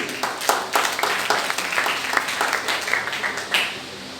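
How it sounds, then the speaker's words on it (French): An audience applauds at a Mother's Day celebration conference, steady clapping from many hands, fairly loud and sustained throughout. "que je demande d'applaudir"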